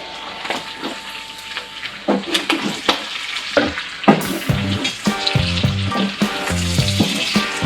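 Wild boar curry sizzles and fries loudly in a pot while being stirred, with repeated scraping strokes and bursts of crackle throughout, no voices.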